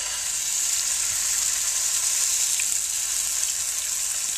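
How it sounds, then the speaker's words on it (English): Steak frying in a pan with a little sesame seed oil, a steady, close, even sizzle with a hiss that holds for the whole stretch, no voices over it. "Let's go ahead and drop our meat in."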